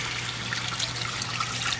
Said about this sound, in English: We are also going to be adding a cup